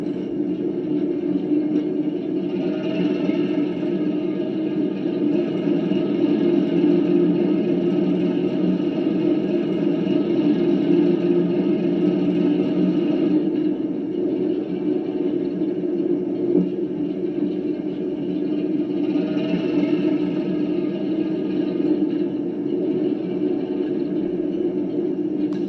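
A 5 inch gauge class 08 model diesel shunter with an engineman DCC sound system, its engine note settling back to a steady low droning rumble as the throttle drops, continuous and even throughout.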